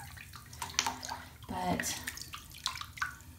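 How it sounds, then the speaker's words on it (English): Water pours steadily into a bathtub that is already fairly full, a continuous splashing rush with brief louder surges, while a person speaks briefly over it. "I was piddling around and kind of forgot my water was running"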